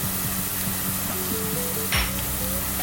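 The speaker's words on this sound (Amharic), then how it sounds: "ይኸውላችሁ ሽንኩርት እየተጠበሰ ነው።" Onions frying in a pan for an Ethiopian alicha stew, a steady close sizzle with occasional clinks of a utensil stirring and one brief scrape near the end, no voices.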